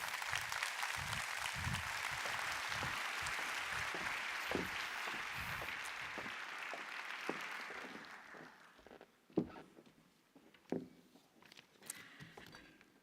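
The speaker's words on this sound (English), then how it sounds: "May I please have a big round of applause for your Secretary General" Audience applause at the opening session of a large international library conference, steady dense clapping that thins out after several seconds into a few scattered final claps.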